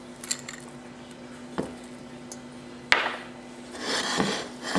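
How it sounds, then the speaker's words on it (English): Sausages and glazed pecans tumble into diced cornbread in a pan, giving a few soft thuds and scraping clatters, then a longer rustling toss near the end, close and fairly quiet. "Go ahead and add the sausages and the pecans."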